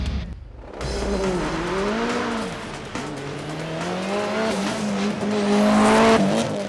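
A race car engine roars and revs hard on a wet track, tires squealing and skidding as it launches, loud and continuous throughout.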